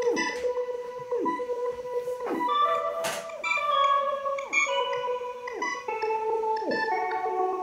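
Electric keys processed with EQ, Valhalla reverb, ShaperBox and Slate Digital saturation play a repeating pattern of bright chords with swooping, warped pitch dips, steady and upfront throughout with no voices.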